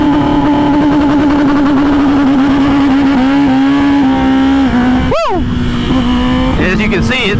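A 2022 Kawasaki ZX-10R motorcycle launches hard using launch control, its engine holding a steady high rev before surging and climbing in pitch. The engine is loud and close, with a brief shout of excitement over it.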